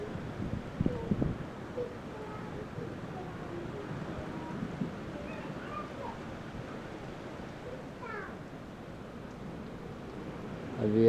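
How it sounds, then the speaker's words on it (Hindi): Strong wind blows around a village house on a rainy morning, a steady rushing roar with buffeting gusts on the microphone and a faint voice briefly in the background. "पीछे से हवा चल रही है बहुत"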